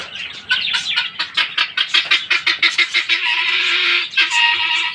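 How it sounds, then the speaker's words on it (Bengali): Small birds chirp rapidly and repeatedly at close range, a dense run of high, bright calls that blur into continuous twittering. "দেখতে পাচ্ছেন এই যে খুব ছোট ছোট পাখি, খুব সুন্দর সুন্দর।"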